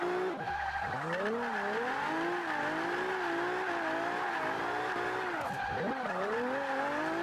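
A Toyota Celica front-wheel-drive drift build in Forza 5, its engine holding a high, wavering drone as the car slides through a corner, with tire squeal and rising and falling revs throughout.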